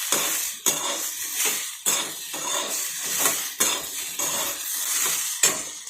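Okra is stir-fried in a pan over a low gas flame, with a utensil scraping and tossing it in steady, repeated strokes about once a second, close and clear, with no talking.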